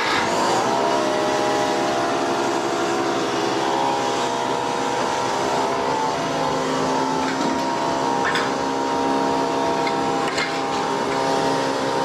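A forklift engine runs steadily in a garage during a transmission swap on a 2010 Infiniti G37x, a continuous loud mechanical drone with a harmonic whine, holding without pause for the whole stretch.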